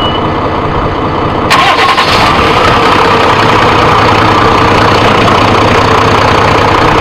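A boat's engine cranks and catches, then settles into a loud, steady idle that fills the rest of the clip.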